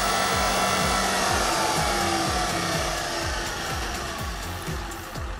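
Small electric motor of a toy electronic car spinning with a steady whirring hum and a rapid repeating rattle, loud and close throughout, fading slightly toward the end.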